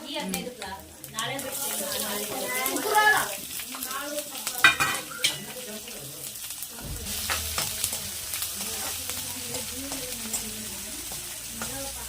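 Onions frying in a home kitchen pan, a steady sizzle under repeated scraping stirs of a utensil against metal, with occasional clinks and a voice and other chatter in the background.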